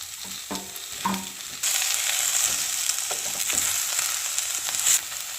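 Ginger, garlic, curry leaves and tomato sauté in a hot pan for eggplant masala: a few scrapes first, then a loud, steady, close sizzle that carries on to the end.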